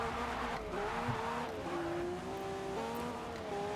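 Lamborghini Revuelto in Forza Motorsport racing at Suzuka, a steady engine note rising and falling through gear changes with brief tire squeal, moderately quiet and continuous.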